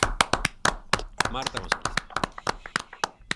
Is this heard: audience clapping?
yes